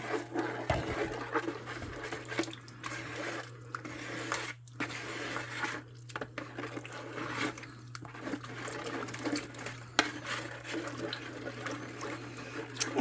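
Water, about one and a half cups, is poured faintly and intermittently in a kitchen for au gratin potatoes, over a steady low hum.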